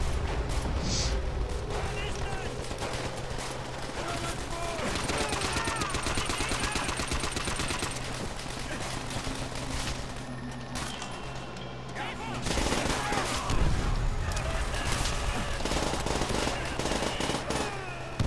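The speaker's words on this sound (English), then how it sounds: "Throws grenade, but then shoots everybody." Dense gunfire from Call of Duty: World at War fills the whole stretch: rapid automatic bursts, scattered single shots and heavy booms from grenade blasts, loud and continuous, with battle noise swelling again near the end.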